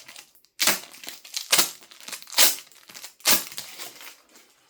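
Plastic crinkling and crunching in several loud bursts, bottles and bags being squeezed and crumpled with short pauses between.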